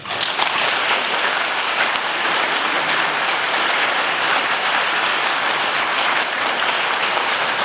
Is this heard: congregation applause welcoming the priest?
yes